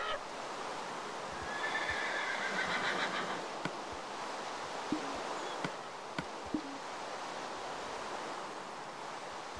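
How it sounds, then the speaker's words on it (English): A donkey in the Minecraft video game brays in a brief, noisy burst early on, over a steady hiss of game ambience with a few faint clicks and taps afterward. "A donkey"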